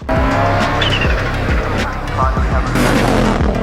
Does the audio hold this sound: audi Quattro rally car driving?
yes